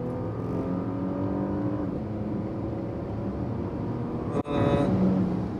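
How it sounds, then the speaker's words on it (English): A stock 2019 Porsche Panamera with a 3-liter V6 turbo accelerating in sports mode, its engine drone climbing steadily in pitch from inside the cabin, then a brief drop and a renewed rise at an upshift, loud and continuous. "This is the stock 3 liter V6 turbo engine."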